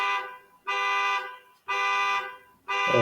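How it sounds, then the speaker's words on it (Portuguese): A car alarm blaring in repeated one-second honks with short gaps between, steady and fairly loud, with no talking, heard during a Bible class. "Disparou o alarme de algum aluno"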